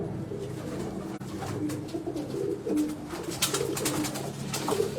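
Several pigeons kept for sale coo softly in repeated low burbling phrases, close by over a faint background hum.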